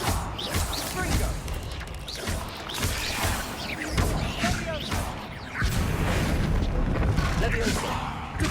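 Confringo explosive spell blasts in the video game Hogwarts Legacy, a dense, loud barrage of booming impacts and crashing bursts amid constant combat noise, with a voice speaking over the action.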